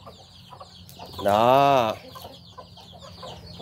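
A flock of young chickens on the ground, about two to three weeks old, makes one loud, sustained call that stands out over softer clucking and chirping nearby, with someone speaking briefly.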